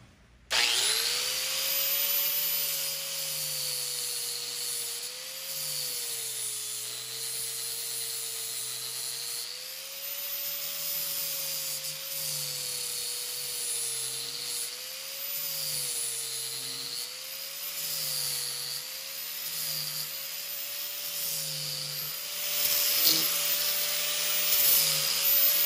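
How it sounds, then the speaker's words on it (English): Cast copper skulls ground down with a power grinder, a steady close whine with a wavering motor pitch running continuously throughout. "Let me go ahead and grind these down and play with the other ones a little bit"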